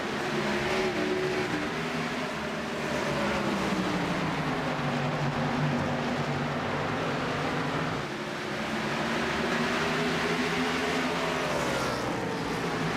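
Race cars in the iRacing video game lapping North Wilkesboro Speedway produce a continuous, loud engine roar whose pitch repeatedly swells and falls as the cars accelerate and pass.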